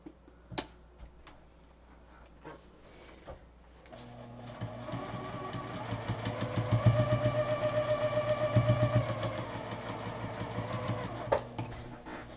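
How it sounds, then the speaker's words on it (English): A sewing machine stitches a block of a pineapple quilt, starting with a few soft clicks and handling sounds, then a steady close rhythmic whirring run of needle strokes that slows near the end. "Now we're going to sew on number 12."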